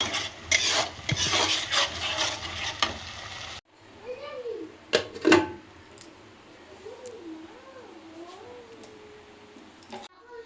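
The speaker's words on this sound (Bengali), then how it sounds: "এটাকে একটু হালকা আঁচে কষাবো।" Spice paste of cumin paste, dried chilli powder, salt and turmeric stirred and fried in a pan over low heat, giving a soft scraping sizzle at first, then quieter with a few sharp clinks and faint background sounds.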